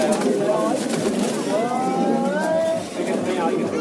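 Pigeons at a rooftop pigeon race setting in India, soft cooing and chirps mixed with loud nearby voices talking and shouting, with a whistling tone sliding through the middle.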